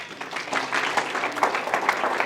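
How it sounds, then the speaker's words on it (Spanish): Church congregation clapping together in praise, a short burst of fairly loud, slightly rhythmic applause from a small indoor gathering. "Denle un aplauso a nuestro Dios."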